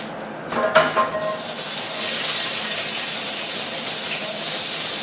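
Vegetables hit a hot ridged grill pan still greasy from pork chops, a few soft clatters and then a loud, steady sizzle that keeps going on its own.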